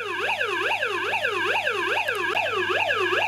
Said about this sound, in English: Lights flashing, sirens on.